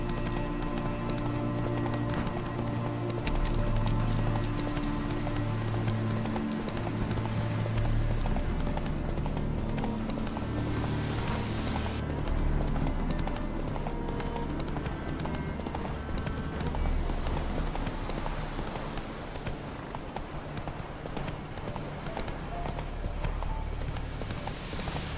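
Horse hooves gallop in The Witcher 3, a steady rhythmic clip-clop running under game music and ambience, with occasional spoken lines over it.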